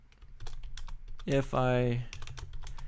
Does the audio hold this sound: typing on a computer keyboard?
yes